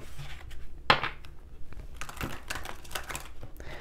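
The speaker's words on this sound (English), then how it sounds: "Let's do some shuffling." Close, dry bursts of a Mermaid tarot deck being shuffled by hand, a quick series of crisp riffles and slaps that come in uneven clusters with no talking.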